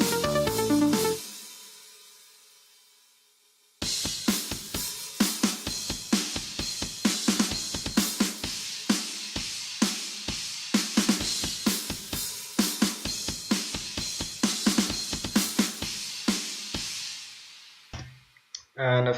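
Programmed drum track for a metal-style piece without lead instruments: after a short burst and nearly three seconds of silence, steady, dense kick, snare and cymbal hits drive on loudly to the end.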